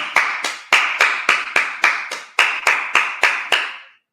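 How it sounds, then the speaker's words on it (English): A single person clapping steadily at a Sabbath service, about thirteen sharp, close claps in an even rhythm, each with a brief ringing tail in a reverberant room, ending in silence. "All right, clap it up."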